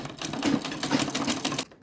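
A sewing machine stitches a zipper onto purse fabric, giving a steady, close, rapid mechanical chatter with regular needle clicks that stops abruptly at the end.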